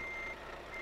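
A truck's reversing alarm in Euro Truck Simulator 2 multiplayer sounds a steady high electronic beep over low engine rumble, brief and fairly quiet.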